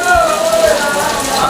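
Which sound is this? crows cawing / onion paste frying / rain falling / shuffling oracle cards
rain falling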